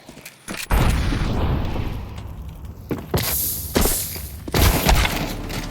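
An incendiary grenade bursts in a video game, with several sharp booms and crackling blasts over a sustained fiery roar lasting several seconds.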